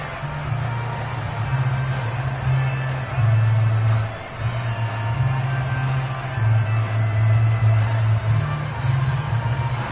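A stadium crowd roars steadily through a tense fourth-quarter third down in a close one-score football game, a dense continuous cheer with occasional louder swells and a low sustained drone underneath.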